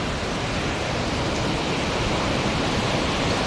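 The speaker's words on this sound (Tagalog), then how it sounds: "Ang laki na ng tubig ng ilog nga." A swollen river rushes past at full force, a loud, dense, unbroken roar of churning water that holds steady from start to finish.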